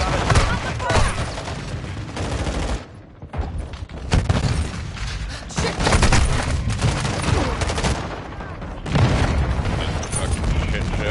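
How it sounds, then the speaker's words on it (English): Dense gunfire and repeated booming explosions from cluster mines in Modern Warfare 2 multiplayer, loud and continuous with brief lulls, mixed with chaotic battle noise and voices. "Friendly cluster mine deployed."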